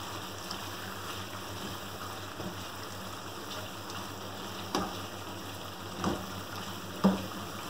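Beef nihari, its liquid cooked down, being fried over a high flame: a steady low sizzle and bubbling hiss throughout, with a few soft stirring knocks near the end.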